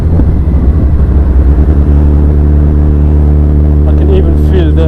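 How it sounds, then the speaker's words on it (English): A Kawasaki Z1000 fitted with a Blackwidow exhaust produces a loud, steady, low engine drone close by, with a voice talking over it. "Guys, I'm sure you can hear the sound of this engine. It sounds very good now."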